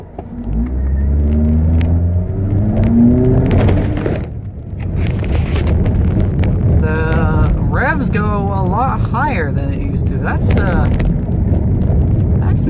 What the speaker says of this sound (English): let's see what happens if I go to a stop and step on the gas